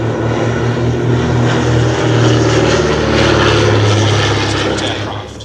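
A de Havilland Dragon Rapide propeller aircraft flies at the Shuttleworth Fly Navy airshow, its engines giving a loud, steady, throbbing drone that fills the whole stretch and eases slightly at the end.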